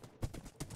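Horse hooves clip-clopping in the Minecraft video game, two or three quick thuds within under a second, close and fairly quiet.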